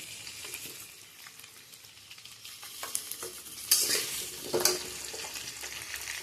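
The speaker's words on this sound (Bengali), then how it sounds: "আলুগুলো ভেজে নিই লাল লাল করে।" Potatoes fry in a pan until reddish while being stirred: a close, continuous sizzle with scraping stir strokes, swelling into two louder rushes of hissing toward the middle before settling again.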